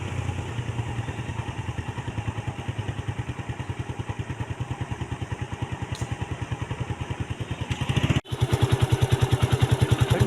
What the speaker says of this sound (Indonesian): Tapi bunyi motor nih